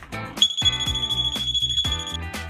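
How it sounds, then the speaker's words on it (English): A loud, piercing 120-decibel alarm from a door stop wedge shrieks in rapid repeated electronic pulses throughout, with no talking. "a 120 decibel alarm alerts you that there's been an attempted entering"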